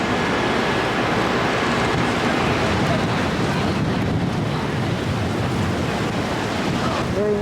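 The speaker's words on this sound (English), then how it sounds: "Very windy." Strong wind roars and buffets continuously on a hotel rooftop in Tampa, a dense rushing noise battering the microphone throughout, loud and steady with no clear pauses.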